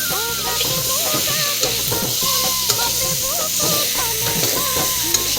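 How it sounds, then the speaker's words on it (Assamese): Chicken meat fries in a pan with a constant close sizzle and hiss while it is stirred, giving scraping and clinking strokes throughout with no talk. "ইয়াত মাংসখিনি দি দিলোঁ, এনেকৈ লৰাই আছোঁ।"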